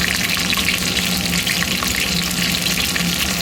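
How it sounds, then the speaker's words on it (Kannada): Steady, loud sizzling of green chillies frying in hot oil, a continuous crackling hiss with no voices. "ಇವಾಗ ಮೊದಲು ಹಸಿಮೆಣಸಿನ್ಕಾಯನ್ನು ಫ್ರೈ ಮಾಡ್ಕೊತೀನಿ ನಾನು"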